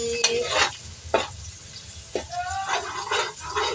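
Garlic sizzles in a hot pan while spaghetti sauce is being cooked, with a few loud stirring scrapes and bursts of frying crackle, all close up over a low background hum.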